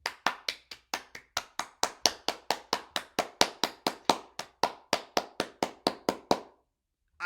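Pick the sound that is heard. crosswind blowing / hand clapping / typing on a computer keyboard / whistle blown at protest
hand clapping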